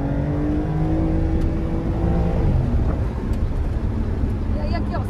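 A Porsche accelerating hard on a winding road, its engine note rising loud and steady with a broad roar and climbing tones, people talking faintly underneath.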